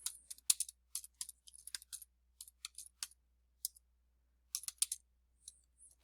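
Someone typing a title on a computer keyboard, with quick irregular clusters of light, close key clicks separated by short pauses in an otherwise silent room.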